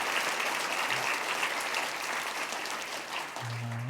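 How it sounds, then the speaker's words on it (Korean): A church congregation applauds steadily throughout, a dense even wash of clapping from a large indoor crowd with no speech over it. "우리 큰 박수를 한번 하시면 좋겠습니다"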